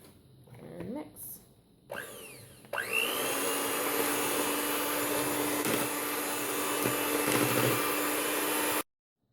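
An electric mixer whirs loudly and steadily through rum bundt cake batter with vanilla pudding mix, starting after a few brief knocks and scrapes and running close and constant until it cuts off abruptly near the end.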